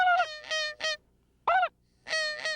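White-fronted geese honking in spring on Alaska's North Slope during a hunt from a blind: loud, close, repeated nasal calls in short bursts separated by brief pauses.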